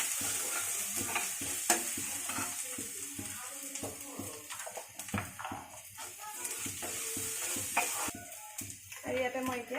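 Whole cumin and onions frying in a pan while being stirred, a steady sizzle under repeated scraping and clattering of the spatula, close up with no talking.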